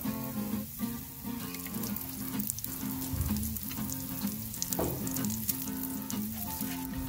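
Pancake batter and sausages fry on a Blackstone flat-top griddle with a loud, continuous close-up sizzle, broken by a few spatula scrapes and light clinks.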